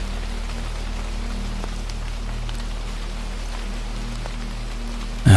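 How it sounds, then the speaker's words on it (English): Steady rain falls on a rainy night in Edinburgh, a continuous soft hiss of drops with a low underlying rumble that ends abruptly in a brief louder burst. "the rain carried on, indifferent and steady"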